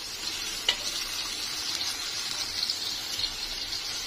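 Tomatoes added to peppers frying in a pan: a steady close sizzle with a faint clink near the start and soft stirring, no voices heard.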